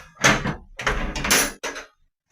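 A gate door is pulled shut in several loud rattling, scraping bursts close by, then it goes quiet.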